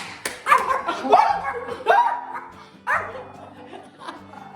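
A dog barks in a few sharp yaps and bursts spread unevenly across a few seconds, close and fairly loud, with brief gaps of quieter sound between them.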